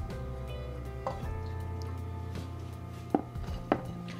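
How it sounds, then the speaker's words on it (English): A tortilla is dipped into enchilada sauce for cheesy baked Mexican breakfast enchiladas, making a few soft wet squishes and drips close by, over faint kitchen background noise. "Dip your tortilla in your sauce."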